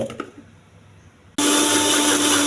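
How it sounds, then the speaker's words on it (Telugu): A kitchen mixer grinder blends grated coconut with a little salt for chutney. After a quiet moment with a few small knocks, the motor starts abruptly into a loud, steady whirring grind. "వేసుకుని మిక్సీ వేసుకోవాలండి"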